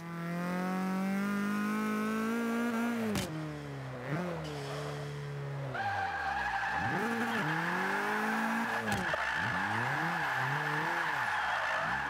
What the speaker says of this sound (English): I'm using the clutch quite a lot to keep the revs out of the turbo lag zone